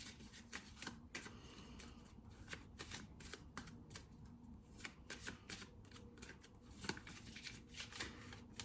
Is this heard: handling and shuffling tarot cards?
yes